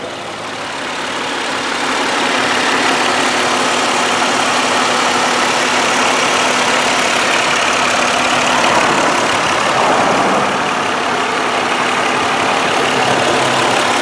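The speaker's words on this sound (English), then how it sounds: "listen to the motor." The engine of a 2005 Mercury Montego Premier AWD idles steadily with the hood open, a close, even hum and whir that holds for the whole stretch with no speech.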